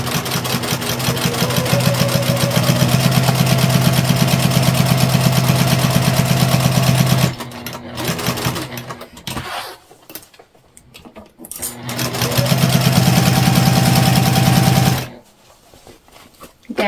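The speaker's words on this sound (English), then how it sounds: "We're sewing at a 3/8 inch seam allowance from our smaller of the two panels," Sewing machine stitching a 3/8 inch seam on a fabric bag panel, running in a loud, steady rapid whir for several seconds, pausing, then starting again in a second long burst before stopping.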